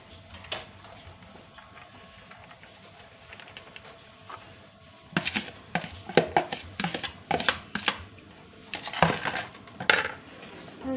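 Rice grains rattle and patter into an oven tray over a filling of stuffed tripe, starting faint then turning into a close, busy spray of clicky taps in irregular bursts.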